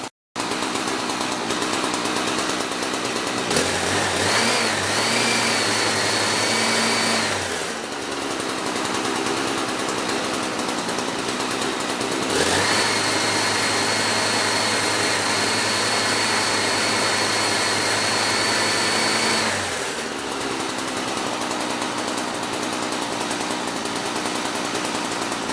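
A two-stroke engine on small outdoor power equipment runs steadily on the last of its fuel. It drones loud and close, with a brief stumble near the middle and another surge toward the end as it falters.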